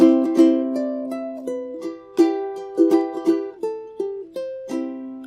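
A ukulele plays the intro of a song alone. Crisp plucked notes and short strummed chords come in a moderate, uneven rhythm, each one ringing briefly and then decaying, close to the listener.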